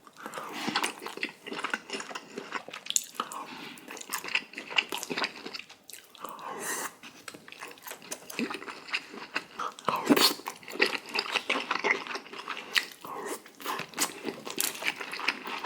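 Close, crunchy chewing and biting of charcoal barbecue chicken, with repeated crisp crunches in an irregular rhythm and soft wet mouth sounds between bites.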